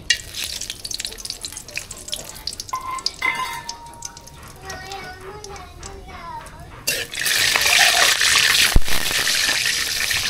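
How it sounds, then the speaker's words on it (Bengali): Whole garam masala spices hit hot oil, with a bright, hissing sizzle that swells loud and steady in the last few seconds, after an earlier stretch of a voice talking over quieter kitchen sounds. "তেল গরম হয়ে গেছে, এখন গোটা গরম মশলা দিয়ে দিচ্ছি।"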